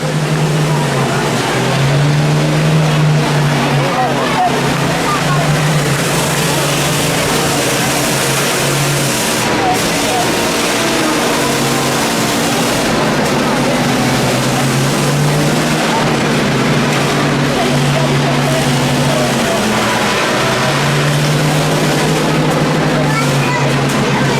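Combine harvester engines roar steadily at a demolition derby at the Columbiana County fair, a loud continuous drone with rising and falling revs, while an announcer talks over the machines throughout.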